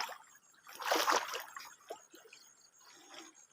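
Someone wades through a large stream on a night-fishing outing, with a burst of splashing and sloshing water steps early on, then fainter trickles and small splashes.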